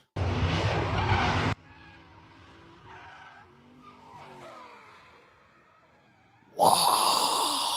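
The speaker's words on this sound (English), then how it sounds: "Drifting backwards." A vehicle drifting backwards off-road in the back country, with a loud burst of skidding engine and tire noise at the start, a quieter stretch of fainter rumbling, then another loud skid surging in at the end.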